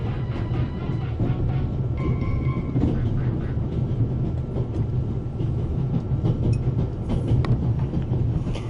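Passenger train in The Raven adventure game riding on rails near Zurich, a steady close rumble with rhythmic clatter and rattling running throughout, with no talk.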